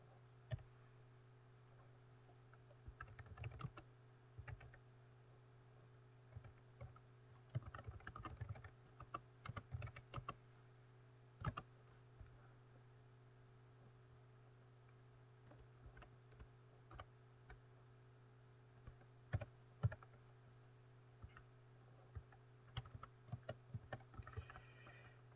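Typing on a computer keyboard, heard as a quiet, close run of uneven key clicks in short flurries with brief pauses, sitting over a constant low electrical hum.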